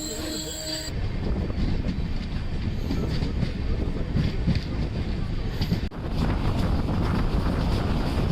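A Dhanbad Express passenger train rumbles through Thuravoor railway station, heavy steady wheel and carriage noise with wind buffeting the microphone, loud and continuous throughout after a brief quieter start.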